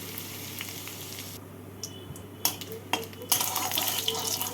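Dried red chilli, bay leaves, cumin seeds and asafoetida hit hot oil in a pan, giving a steady sizzle with sharp crackles and pops that swell louder toward the end.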